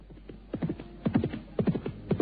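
A horse being ridden clip-clops in a quick, uneven rhythm of hoofbeats, grouped in bursts at a moderate distance over a low steady hum, with no talking.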